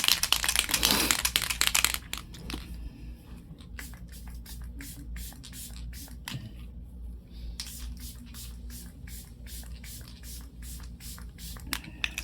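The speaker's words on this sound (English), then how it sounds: "For spray, I'm obviously going to go into the Novo" A makeup setting spray bottle hisses in one long burst, followed by a string of quick, light clicks and taps in a quiet room.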